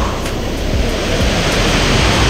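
Waterfall at Salto en Agua Caliente in Chalatenango, El Salvador, a steady, dense roar of falling water close by, unbroken and loud throughout with no voices over it.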